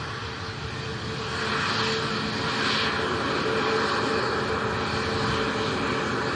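A Titan Airways airliner comes in to land at Manchester Airport on a windy day, its steady engine roar building and holding loudly, with wind noise mixed in.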